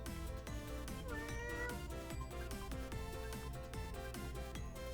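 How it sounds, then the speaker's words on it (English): A cat meows in the video game Saga Emerald Beyond, a faint, repeated mew sitting under loud, rhythmic game music. "A cat awaits you."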